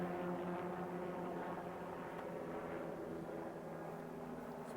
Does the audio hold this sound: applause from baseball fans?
no